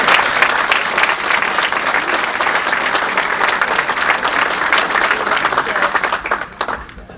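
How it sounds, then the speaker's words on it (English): Guests at a 1991 Los Angeles dinner meeting on investing in Belize give a round of applause, a dense, loud burst of clapping that holds steady and then tapers off near the end. "Another big round of applause for our foreign investors and Belizean entrepreneurs."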